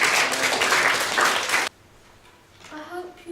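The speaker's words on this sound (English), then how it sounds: "I'd like to give them a round of applause." A school audience at a nuclear power question-time panel claps loudly for about a second and a half, then stops abruptly, leaving quiet room tone and faint voices.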